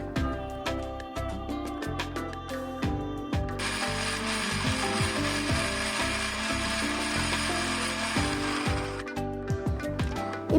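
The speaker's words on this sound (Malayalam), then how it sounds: "ഇനി നമുക്കിതെല്ലാം കൂടി ചേർത്തിട്ട് നന്നായിട്ടൊന്ന് അരച്ചെടുക്കാം." A kitchen mixer grinder blends green chillies and other ingredients into a paste for tuna al faham. Up close, it starts with short clattering pulses, then runs in a sustained loud whirring burst and ends in a few more pulses.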